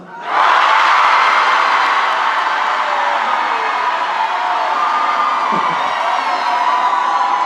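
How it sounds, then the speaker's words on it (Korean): A festival concert crowd at a harbor event bursts into loud, sustained cheering and shouting on cue, rising sharply at the start and holding steady for several seconds. "셋 함성"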